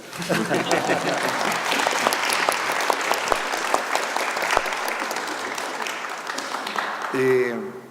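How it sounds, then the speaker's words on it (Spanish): A concert audience applauds at a classical music event featuring new commissioned works, a dense, sustained wash of clapping from many people that fades slightly before a voice starts speaking at the end. "Sí, aplaudan."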